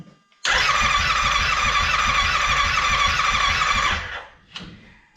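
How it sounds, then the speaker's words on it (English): A flood-damaged Yamaha Wolverine X4 engine cranks at wide open throttle for about three and a half seconds, a loud, close, rapid rhythmic churning of the starter that stops abruptly, followed by a short clatter. "we're going to hold her wide open throttle and crank her"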